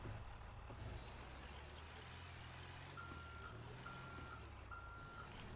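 In GTA NoPixel 4.0, a truck reverses with three evenly spaced, steady beeps over a constant low engine rumble.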